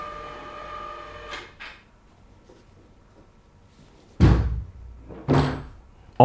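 Metal locking pins and rigging hardware on an SL-Sub flown loudspeaker array clack and latch, two sharp loud knocks after quiet handling noise, with a soft clatter earlier.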